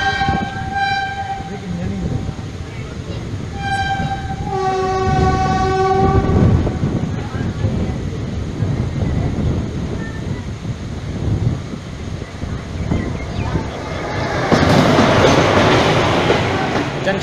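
The Vijayawada Jan Shatabdi express, hauled by an electric WAP-1 locomotive, sounds several loud horn blasts before passing along the rails in a heavy, continuous rumble of wheels clattering over the track, swelling with a burst of wind noise near the end.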